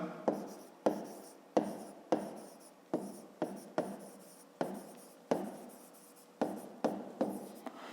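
A pen writing by hand on paper during a fifth-grade maths exercise, giving a series of regular scratchy strokes, each starting with a sharp attack and then fading, close and clear with no talking.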